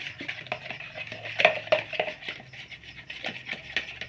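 Distemper paint being stirred into light green colour for banner lettering, a spoon tapping and scraping against a container in a steady rhythmic series of clinks, close and fairly quiet.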